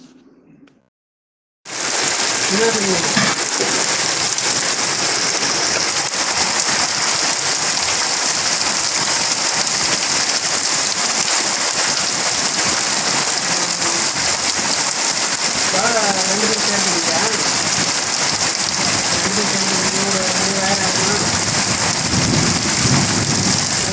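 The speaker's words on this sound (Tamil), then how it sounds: "இரவு எட்டு மணி அளவில் பெய்த பலத்த மழை மற்றும் பலத்த காற்றினால்" Heavy evening rain with strong wind in a rural farming area pours down as a loud, steady roar of rain on surfaces. It starts abruptly after a brief quiet moment and continues without letup, with occasional faint voices in the background.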